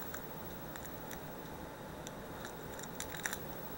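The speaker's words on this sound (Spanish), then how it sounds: "vamos a utilizar unas tijeras." Scissors snipping open packaging around a set of lock picks, a series of small sharp clicks and snips at close range over faint background noise, no talk.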